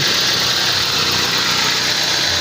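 Toyota bB car engine running just after a cooling hose and clamp were refitted; a close, steady idle with an even mechanical rumble and faint vibration, no talking.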